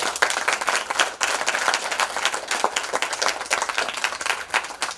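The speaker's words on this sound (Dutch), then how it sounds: "Ja, ook Jozef, een applaus nog." An audience breaks into applause at an official gathering in Suriname, a lively burst of many clapping hands with uneven peaks, sustained steadily from start to finish.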